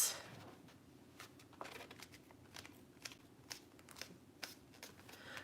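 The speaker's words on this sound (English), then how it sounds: "So I'm folding that in half." A sheet of paper is folded in half to make a traveler's notebook divider. Soft, close crinkles and sharp creasing scrapes come in quick bursts, with no talking.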